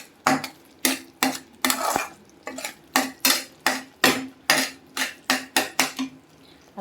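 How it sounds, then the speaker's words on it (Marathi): A spoon scrapes and knocks rhythmically through a thick mixture of grated fresh coconut and cardamom in a pan, about a dozen loud, close strokes in steady succession with no talking. "इथे वेलची टाकायची आणि वेलची पण छान मिक्स करून घ्यायचं आहे"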